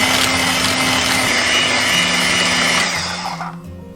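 An electric mixer whirs loudly and steadily while beating egg yolk and cream together for pineapple cake dough, then winds down and cuts off near the end.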